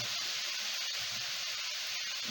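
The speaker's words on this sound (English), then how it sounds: "we're just going to saute this for about 2 or 3 minutes until it gets wilted" Kale wilting with sausage in a hot pan, a steady close sizzling hiss that holds evenly throughout without breaks.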